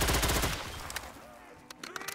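Rapid automatic gunfire in the video game Black Ops 3 zombies bursts out loud at first, then a few sparser shots and clicks follow in a short, punchy sequence.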